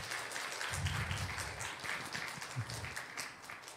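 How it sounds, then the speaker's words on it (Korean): A church congregation claps at a children's school graduation, faint and somewhat distant, a soft continuous patter of many hands lasting a few seconds. "박수로 맞아주겠습니다"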